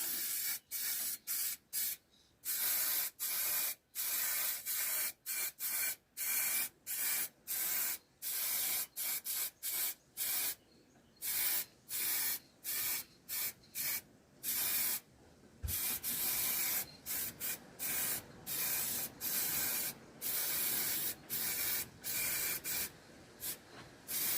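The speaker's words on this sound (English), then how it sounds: "Put loads of rags around to stop the overspray" Iridescent paint sprayed onto a turned sycamore wood bowl, heard as many short, loud hissing bursts in quick irregular succession, with brief gaps between them throughout.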